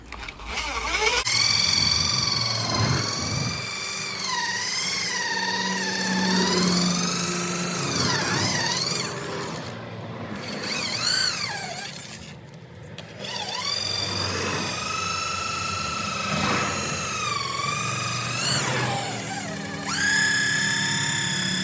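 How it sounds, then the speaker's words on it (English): A machine polisher works over scratched car paint, its motor whining steadily and loudly for the whole stretch, the pitch wavering and dipping briefly twice as pressure on the panel changes. "it is rubbing paint off, that's what polish does"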